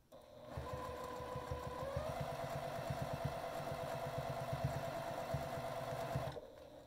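A sewing machine runs steadily while quilting, with a fast rhythmic mechanical clatter and motor whine that holds for about six seconds, then stops abruptly; no talking.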